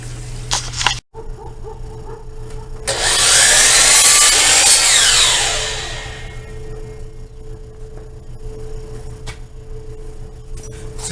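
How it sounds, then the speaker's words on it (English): A miter saw cuts wood into individual bricks for a faux brick wall, a single loud whining cut of a few seconds that rises and then winds down, with a dog barking in the background. "now we're going to set up a stop on the miter saw to cut the individual bricks"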